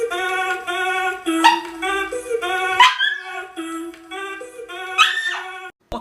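A dog barks, yips and whines close and loud in a run of drawn-out, tonal vocal bursts, ending abruptly.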